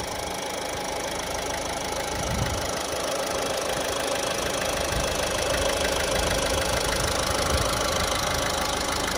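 A Ford car engine runs steadily at idle nearby, a continuous mid-low hum with a faint knocking texture throughout and no voices.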